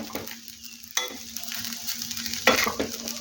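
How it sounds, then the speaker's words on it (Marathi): Peanut powder, sago pearls and chili being stirred and fried in a hot pan for sabudana khichdi: steady close sizzling with a few sharp spoon scrapes against the pan, no talk. "शेंगाचा कूट टाकून झाल्यानंतर आपण शेंगा कूट, शाबू व मिरची यांना मिक्स करून घेऊयात"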